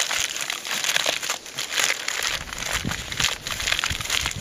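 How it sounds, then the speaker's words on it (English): Wrapping is crinkled and folded over a steak being prepared for a camping ground oven, a steady run of close crackling and crumpling with no pauses. "bring the two sides together and then just keep folding down"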